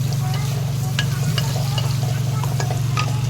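Onions sauté with a pinch of salt in a pan, a soft continuous sizzle with occasional light stirring clicks over a steady low hum, close by and with no one speaking.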